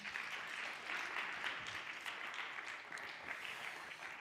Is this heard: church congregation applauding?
yes